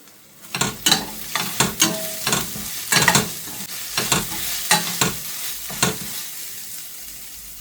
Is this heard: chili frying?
yes